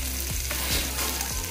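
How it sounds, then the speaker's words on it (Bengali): Koi fish fries crisp in a pan, giving a loud continuous crackling sizzle with a few short scraping stirs or turns, close and steady over a brief stretch, with no voices. "আমি কড়া করেই ভাজলাম"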